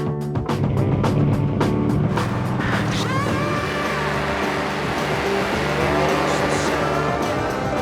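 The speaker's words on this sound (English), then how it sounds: "There's no other sport that's got a sound like drag racing." A roaring drag racing car engine blasts loudly and continuously, starting with rapid revving bursts and rising pitch as the car accelerates away amid crowd noise at a drag strip.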